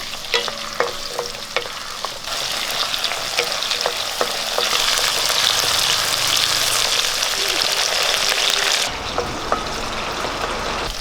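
Small onions (shallots) hit hot oil already crackling with mustard seeds and dried red chillies for a Kerala-style sambar. A steady, loud sizzle swells up after a couple of seconds, holds with stirring scrapes, then drops away near the end.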